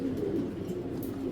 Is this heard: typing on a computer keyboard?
no